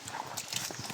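A working horse's hooves clip-clopping under a heavy load, a few quick hollow knocks close by over a faint background hum within one brief second.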